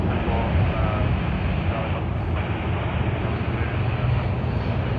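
A Qantas airliner in the 100-year anniversary livery operates at Sydney Airport on the Sydney to Auckland service, producing a loud, steady broadband jet roar that fills the scene continuously.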